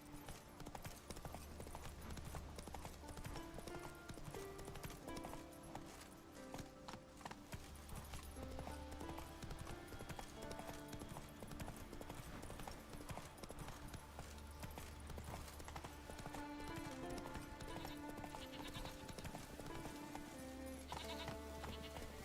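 A horse in The Witcher 3 video game trots with a regular, rhythmic clip-clop of hooves that repeats throughout, set against a dense, continuous game soundscape.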